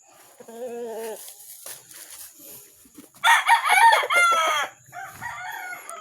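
Pet chickens and a rooster in Cavite call near the mic, with scattered clucks and then one loud, drawn-out crow.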